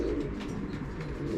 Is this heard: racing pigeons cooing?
yes